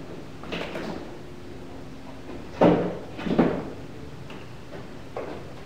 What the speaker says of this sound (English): I'm going to go ahead and open the door